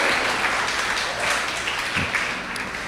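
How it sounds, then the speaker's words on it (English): An audience at a community meeting about Gowanus claps for Dan Wiley, steady applause from many hands sustained across the whole moment at moderate loudness, with no talk over it. "we could definitely clap for Dan Wiley"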